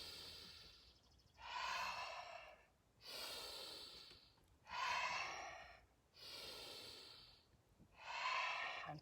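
Rhythmic, audible breathing during a bootcamp yoga session on a quay: five close breaths alternating inhale and exhale, each lasting about a second or more, evenly spaced.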